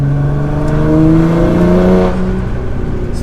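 A Nissan GT-R R35 with its Pedal Commander throttle controller switched off rolls slowly in 4th gear. The engine gives a loud, steady, close-up drone that swells slightly, then eases off.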